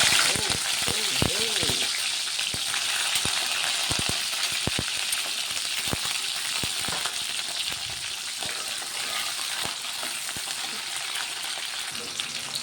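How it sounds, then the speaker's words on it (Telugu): Cut green chillies sizzle and crackle in hot oil in a pan for a spicy chutney, a steady loud fry with scattered pops throughout and a speaking voice faintly beneath. "ఇప్పుడు కట్ చేసుకున్న పచ్చిమిర్చి వేసి"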